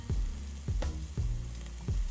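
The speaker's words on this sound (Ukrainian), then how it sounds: "На суху сковорідку відправляю подрібнений перець і обжарюю 3-4 хвилинки" Chopped bell pepper sizzles in a hot dry pan, with a few rhythmic stirring scrapes punctuating the steady frying hiss.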